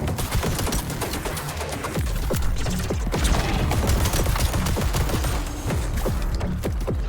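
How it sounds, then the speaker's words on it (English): Rapid, continuous explosions and gunfire-like bursts in a video game, a dense, loud barrage of overlapping blasts sustained for several seconds without pause. "That's a lot of explosions!"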